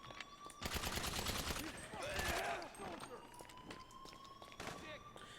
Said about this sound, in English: Hide behind stuff until he stops shooting.